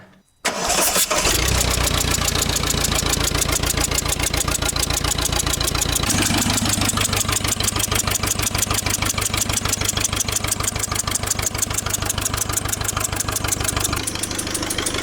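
A diesel tractor engine cranks briefly, catches and settles into a steady, loud, knocking idle that runs continuously nearby.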